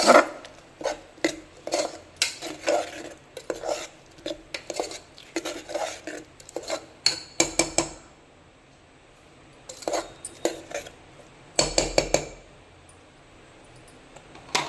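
A spoon stirs potato pulao in a pressure cooker, scraping and clinking against the metal pot in quick rhythmic bursts. The stirring stops briefly midway, then starts again with a few sharp knocks.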